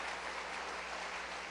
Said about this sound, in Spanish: Démosle palmas al Señor de la gloria.